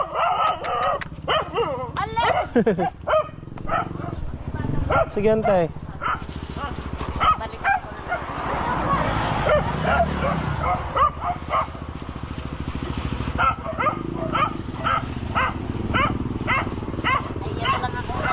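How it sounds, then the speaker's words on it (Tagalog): A dog barks in short bursts close by while people talk over it throughout, with some yips mixed into the chatter. "May aso."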